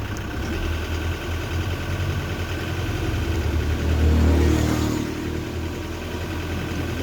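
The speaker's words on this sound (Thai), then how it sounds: "นี่เราก็เร่งไว้ที่พันห้า" Diesel car engine with a front-mounted layout held at a steady fast idle near 1500 rpm, a continuous mid-low drone that swells slightly louder partway through before settling back, with no talk over it.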